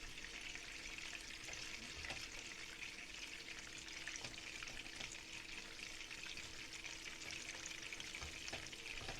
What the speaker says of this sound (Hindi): इस पर हम रखेंगे अपने बर्गर बन जो है, हम इसको गर्म करेंगे।